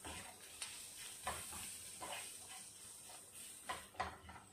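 Food frying in a pan with coriander is stirred, soft sizzling under intermittent scraping strokes of a utensil at a quiet level.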